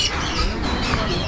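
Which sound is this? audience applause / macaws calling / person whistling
macaws calling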